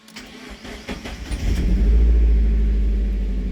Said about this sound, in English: Okay, so here we go, starting it up.